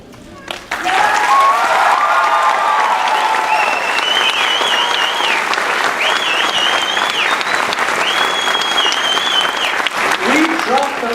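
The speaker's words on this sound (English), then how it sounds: "Be unnecessarily loud, cheering for one another" A graduating high school class of 2019 cheers and applauds loudly at their graduation, a sustained roar of clapping with shrill whistles and voices rising above it, steady for the full length before easing at the end.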